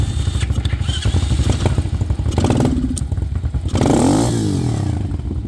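A SyxMoto dirt bike engine catches with the choke on and runs, a loud close-up motorcycle idle with revving swells and mechanical clatter and scraping throughout.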